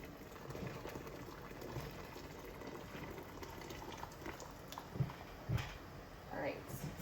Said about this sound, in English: it sounds like our applesauce is pretty much already boiling